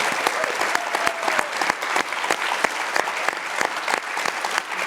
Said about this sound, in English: Let's give a bigger round of applause to both of these amazing